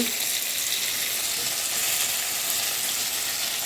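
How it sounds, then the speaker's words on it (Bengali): Spices for dal tempering sizzle and crackle in hot oil in a pan, a steady close hiss that continues throughout without speech. "এই যে ডাল ফোড়ন দিয়ে দিয়েছি।"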